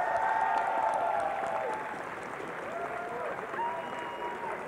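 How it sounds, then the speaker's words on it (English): An audience on stage at an IPL4 esports grand final applauds steadily, a dense wash of clapping and crowd noise that holds fairly level throughout, with a voice heard faintly beneath. "Can we give them a round of applause"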